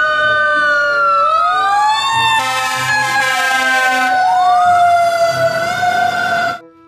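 A toy fire truck's electronic siren wails loud and close, its pitch sweeping up and down continuously, then cuts off abruptly at the end.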